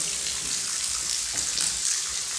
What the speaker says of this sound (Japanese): 滝のように水が流れてる。